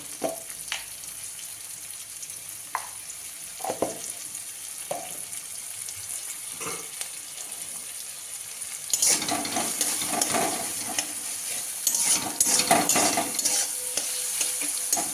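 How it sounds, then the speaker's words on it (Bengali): Chopped onion fries in a pan with salt and turmeric, giving a steady low sizzle with stirring scrapes. The frying swells louder and busier in the second half. No one speaks. "পেঁয়াজ কুচিটাকে একটু নুন অল্প নুন দিয়ে তাহলে পেঁয়াজটা একটু বলে যাবে নুন আর একটু হলুদ দিয়ে ভাজা ভাজা করে নেব"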